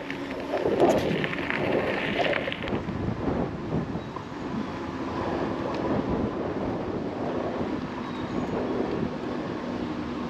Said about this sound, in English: It has gotten very windy here today.